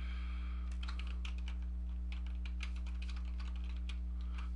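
Keys clatter on a computer keyboard as a short name is typed, a quick irregular run of clicks over a steady electrical hum, close and fairly quiet.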